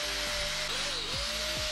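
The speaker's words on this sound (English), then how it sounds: "with the wire wheel, you don't have to worry about taking off too much material" A wire wheel spun by a drill strips paint from the steel of a 2005–2015 Toyota Tacoma spindle gusset, giving a steady high whine with pitch dips as it bites under load. It runs close and loud with no talking.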